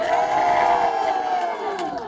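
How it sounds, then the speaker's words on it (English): An audience hoots, hollers and cheers for the good guys at a show in Texas, a sustained, loud crowd roar of whoops and yells lasting the whole moment. "we want you to hoot, holler, and cheer"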